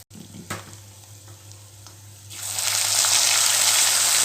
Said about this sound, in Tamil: வேர்க்கடலை நல்லா பொரியட்டும்